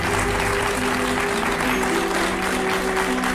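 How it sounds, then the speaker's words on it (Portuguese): A big round of applause from a television studio audience, dense and sustained clapping at an even level throughout, with faint tonal sounds underneath. "Um grande aplauso"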